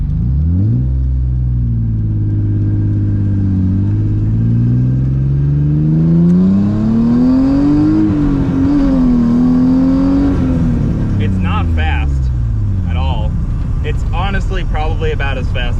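A deep, raspy V6 engine in a Nissan S14 car revs up and holds, rumbling loudly and wavering in pitch before settling, with some clattering noise near the end.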